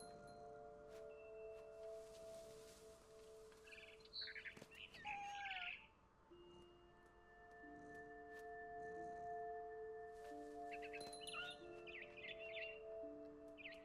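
A bird chirps in the video game What Remains of Edith Finch, with brief bright twittering bursts in the middle and again near the end over soft sustained game music.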